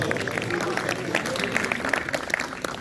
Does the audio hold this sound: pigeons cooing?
no